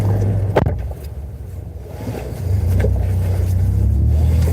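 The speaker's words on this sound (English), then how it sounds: "my truck's loud though" A loud truck engine drones in a low, steady rumble. It dips briefly near the start and then swells back to a heavy, constant roar that stays close and dominant.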